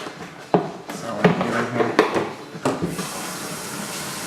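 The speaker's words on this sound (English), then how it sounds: "put a gallon of water here." Tap water runs into a gallon jug for homebrew kegging, with a few clunks and knocks at first, then a steady rushing fill that continues to the end.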